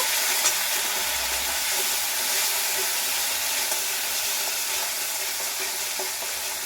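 Chili powder spices frying and being stirred in a pan, a continuous close sizzle with faint scraping of stirring, steady throughout with no talk.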